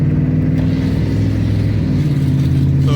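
A 2002 Dodge RAM 1500 pickup's engine drones steadily from inside the cab during a test drive, a loud, constant low rumble with a slight rise in revs, heard alone.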